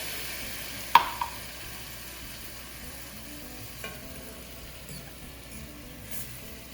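Sliced bananas cook slowly in a pan with freshly squeezed orange juice, giving a faint, steady low sizzle and bubbling with a couple of brief utensil clicks near the start.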